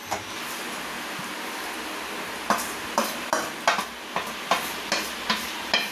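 Coriander leaves sautéed lightly in a pan sizzle softly, then a spatula stirs in a regular run of close scraping strokes about twice a second over the continuous frying hiss.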